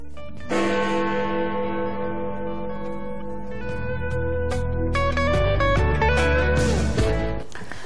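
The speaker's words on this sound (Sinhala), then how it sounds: "සෑම මිනිත්තු 15කට වතාවක්ම විශාල Big Ben සීනුව හැර අනෙක් සීනු 4ම නාද වෙනවා." Big Ben clock tower bells in London ring out in a loud, resonant chime, with several overlapping struck tones sustaining and layering over one another for most of the clip.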